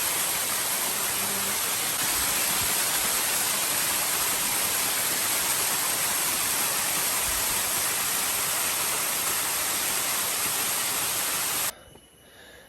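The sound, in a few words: jungle waterfall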